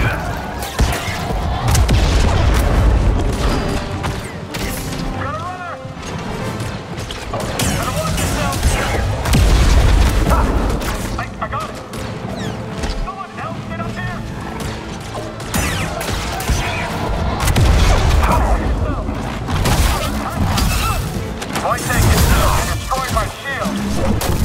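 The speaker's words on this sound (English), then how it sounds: "I'm trying to use the missiles to blow these guys up" Missiles blow up in Star Wars Jedi: Survivor in a long chaotic stretch of repeated booming explosions, crashes and mechanical clatter, loud and dense, with someone talking over the action.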